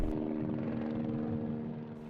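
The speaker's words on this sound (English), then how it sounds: "Here comes a Border Patrol helicopter." A Border Patrol helicopter passes over ranch land near the border wall, giving a steady droning rotor hum with a soft rhythmic pulse that stays fairly faint and constant throughout the short stretch.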